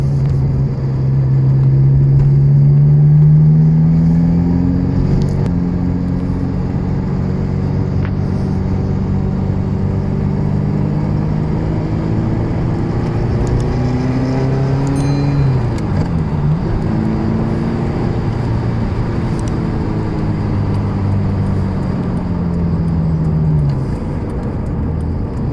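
A Ferrari 348 TS engine drones steadily from inside the car while driving, its low harmonics rising and falling with gear changes, including one noticeable dip and climb midway.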